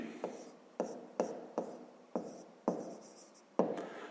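A pen writes on paper during a fifth-grade math exercise. Short scratchy strokes repeat at an even pace, each with a crisp onset that fades. They are close and fairly quiet, with no talk.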